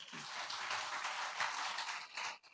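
A church congregation applauds together during a Telugu fasting-prayer sermon, a dense, steady wash of many hands clapping at once that holds for a couple of seconds before breaking off briefly near the end.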